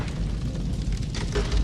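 A gunshot in a film scene from Raiders of the Lost Ark, heard as a loud, dense boom with a heavy low rumble that sustains through the short moment rather than a single crisp crack.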